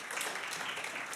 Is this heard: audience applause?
yes